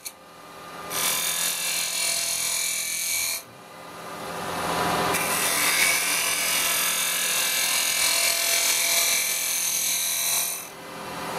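Carbide cutters scraping a small wooden bowl on a spinning wood lathe, giving a steady hissing, rasping cut in two long passes separated by brief pauses, fairly close and without talk.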